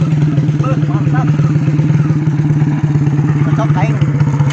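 An old, worn-out motorcycle engine runs loud and close with a rapid, uneven chugging idle and a clattery rattle, while voices speak over it throughout.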